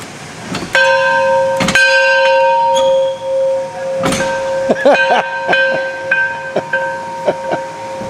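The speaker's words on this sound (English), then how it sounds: "Give that big old bell a ring." Large old bell rung by its handle at a truck museum, loud clanging strikes with long sustained ringing tones overlapping across several seconds, near and alone.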